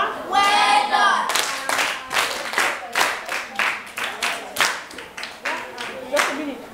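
Classroom clapping for a student, a run of sharp, fairly quick hand claps from a group of children, with a teacher's voice speaking at the start and again near the end.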